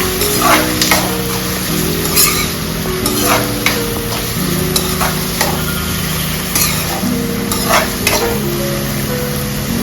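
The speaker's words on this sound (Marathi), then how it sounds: "ढवळूया" A desi Chinese stir-fry is turned in a pan over a high flame, with loud, close scraping strokes every second or so over a constant sizzle and a low droning hum.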